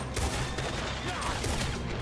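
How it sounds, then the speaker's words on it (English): Rapid gunfire in a Red Dead Redemption 2 barn gunfight, a dense continuous barrage of overlapping shots and echoes, loud and close throughout with no pauses. "Big gunfight."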